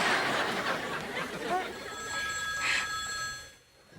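A mobile phone rings in a Disney cartoon scene, its steady electronic ringtone sounding at moderate volume for several seconds under lively chatter and light laughter before cutting off.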